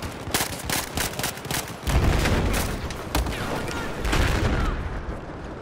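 Automatic rifle fire rattles through a Battlefield 4 Conquest multiplayer match on Xbox One, a rapid run of close, punchy shots followed by heavier booming bursts and scattered gunfire further off.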